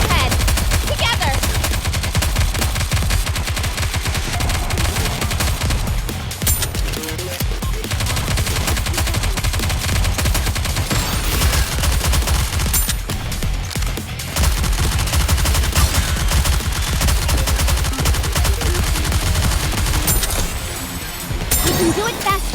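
Sustained, dense gunfire and machine-gun bursts fill a battle in the video game NIKKE: Goddess of Victory, loud and continuous throughout with brief lulls, alongside game sound effects and occasional voices.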